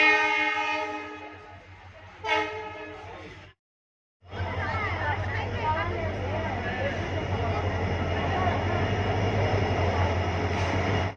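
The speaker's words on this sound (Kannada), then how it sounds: "ನಾವು ಇವಾಗ ರೈಲ್ವೆ ಸ್ಟೇಷನ್ಗೆ ಬಂದಿದ್ದೀವಿ." Train at a railway station on a family trip to Nanjangud, with a harmonic horn tone in the opening seconds, a brief dropout, then steady loud rumbling running noise with voices mixed in.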